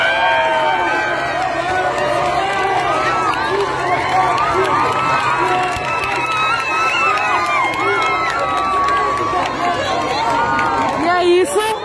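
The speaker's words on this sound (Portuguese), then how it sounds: "Guilherme Boulos sendo muito aplaudido pelo pessoal" A large crowd at a political rally on Avenida Paulista cheers and applauds Guilherme Boulos, with shouting voices, whistles and a continuous din of cheering over scattered clapping.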